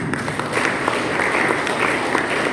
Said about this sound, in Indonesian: Yang setuju tepuk tangan bagi Tuhan.